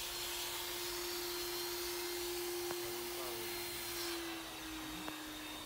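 Upholstery extraction machine pulling dirt and cleaning product out of a heavily soiled sofa, a steady, loud suction whine with a constant tone, briefly interrupted by two sharp clicks near the end.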